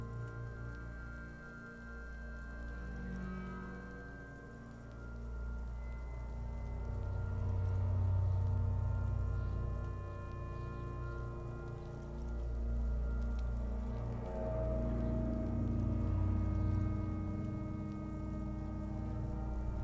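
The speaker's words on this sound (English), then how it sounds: "It's raining outside, light drizzle." Light drizzle patters steadily outside in the video game Disco Elysium, a soft, continuous hiss of rain on surfaces under a low ambient hum, faint and unbroken throughout.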